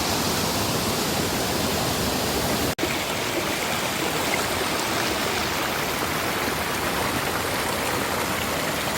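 A mountain stream rushes steadily through a mossy valley, a loud, continuous broadband wash of water close by with no talk over it, broken only by one sharp click near the middle.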